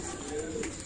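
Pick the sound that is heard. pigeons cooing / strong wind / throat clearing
pigeons cooing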